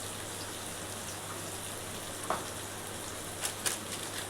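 Tomatoes sautéing in a pan for a Mumbai-style ragda pattice, giving a steady, even sizzle throughout with a few faint clicks of a utensil, no voices.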